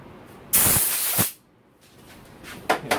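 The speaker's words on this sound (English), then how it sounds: "Now just use some compressed air and slide it off." Compressed air blasts under a motorcycle handlebar grip to slide it off: a loud, close hiss of just under a second that cuts off abruptly, followed by fainter handling noises.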